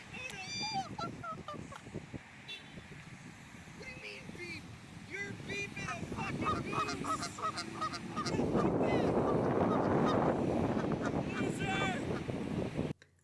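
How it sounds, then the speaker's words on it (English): Canada geese honk repeatedly in a group in a town setting, loud and close over traffic and wind noise, with the calls growing denser toward the end. "we saw some famous Canadian wildlife, the iconic Canada goose"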